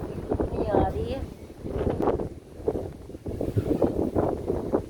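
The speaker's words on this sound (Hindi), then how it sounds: "और फ्रेंड देखें हवा कितनी तेज़ है।" Strong storm wind buffets the microphone on a rooftop in gusty, roaring surges, loud and close, while someone talks over it.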